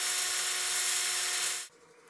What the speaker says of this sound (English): I'll power sand the outside here and then the foot